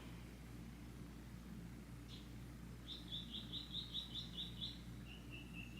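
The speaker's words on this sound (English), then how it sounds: "The birds are driving me crazy." Small birds chirp outdoors in quick, high-pitched runs of repeated tweets, fairly faint over a low background hum, with one brief call before a longer trill sequence.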